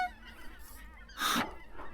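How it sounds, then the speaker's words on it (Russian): Northern migrating geese fly high overhead, giving a short burst of distant honking calls that rises and fades in the middle of an otherwise quiet, faint outdoor scene. "прошел транзитный пролет северного миграционного гуся"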